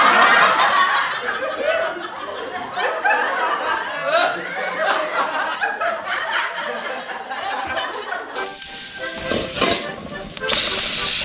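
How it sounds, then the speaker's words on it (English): Steady hissing sizzle of food on a hot surface, with laughter and chatter over it and a louder burst of sizzling near the end. "Listen to that sizzle."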